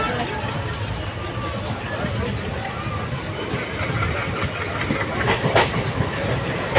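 A train departing Dharmapuri station in Tamil Nadu, India rolls along with a steady low rumble and rattling wheels, loud and continuous, with a brief sharper clatter near the end.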